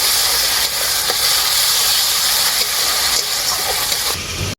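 Sour yogurt sizzling and hissing steadily as it is cooked down with spices in a pan for a soybean curry, a constant loud, close frying hiss with no talk.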